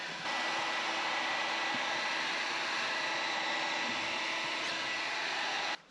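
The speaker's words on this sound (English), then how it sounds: "So another good reason to have a good quality heat gun." Heat gun set to about 180 degrees blowing hot air onto sound deadening inside a T5 van, a steady broadband whoosh lasting several seconds before cutting out.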